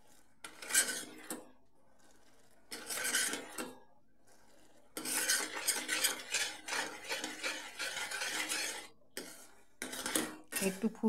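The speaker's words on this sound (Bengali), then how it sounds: "এর মধ্যে দারচিনির গুঁড়ো দিয়ে ঘেঁটে নিলাম।" A spoon scrapes and stirs ground cinnamon into sugar syrup in a metal pan in bursts with short pauses, giving a close, rasping metallic clatter.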